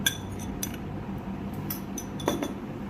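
A utensil clinks and scrapes lightly against a bowl as ginger garlic paste is mixed into chopped apples for pickle, a few faint metallic taps spread over a quiet background with no talking.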